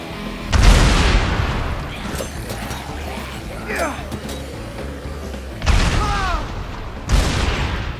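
Three loud grenade blasts in Dead Rising 3 boom close by, one early and two near the end, each with a sharp thump and rumbling decay, with quieter game noise between them.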